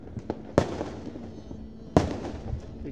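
Two loud New Year fireworks bursts go off nearby about a second and a half apart, each a sharp crack followed by a crackling, rumbling tail, with faint background pops between them.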